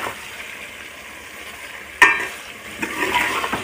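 Spices are stirred in a sizzling cooking pot, with a soft steady frying hiss, one sharp clink of a spoon against the pot and light scraping strokes that follow.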